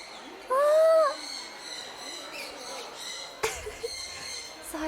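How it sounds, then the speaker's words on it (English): A bird gives a loud, harmonic squawking call for about half a second near the start, then fainter chirps and rustling carry on over a steady background hiss. "the bird noise is overwhelming my mind"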